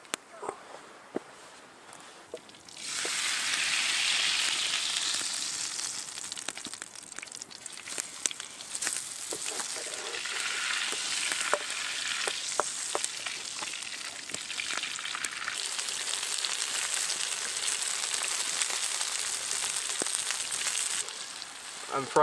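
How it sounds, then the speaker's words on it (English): Ramen noodles sizzle and fry in pan juices at a wilderness campsite, a loud hissing crackle starting after a quiet moment, with scraping and stirring clatter throughout. "I'm frying the ramen in the juices."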